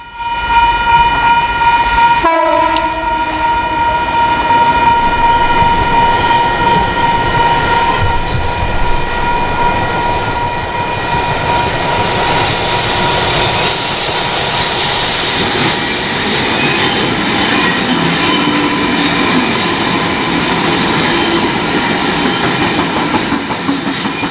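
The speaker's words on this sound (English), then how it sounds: "Another northbound V set runs through Express." An electric V set passenger train roars loudly through Wondabyne station in Australia without stopping, horn sounding early on, wheels rumbling and squealing steadily for the whole stretch without letting up.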